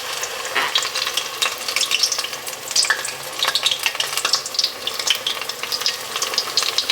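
Spoonfuls of drop bread batter fry in hot tallow in a skillet on the stove, with a loud, continuous crackling sizzle and bursts of popping spatter.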